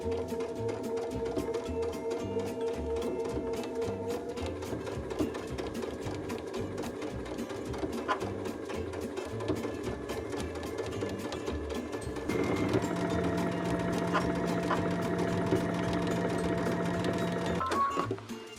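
A sewing machine top-stitches along the top of a dress, humming continuously and close by, with a slight shift in pitch and a louder stretch partway through before it slows at the end.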